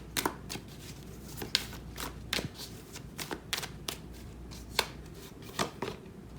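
Tarot cards riffled and slapped down in quick, crisp bursts with uneven pauses, close up and clear, with no talking over them.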